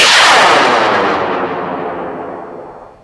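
Launch of a model rocket on a Motor Works K800 Blue Baboon motor: a loud, close, rushing roar that starts at full force and slowly fades as the rocket climbs away.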